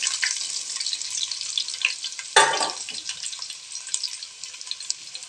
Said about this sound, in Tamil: இந்த வெங்காயம் இப்போ நல்லா வதங்கணுங்க